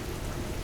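Steady rain at night pattering onto open water, a dense continuous hiss with low rumbling underneath, close and even throughout with no voices.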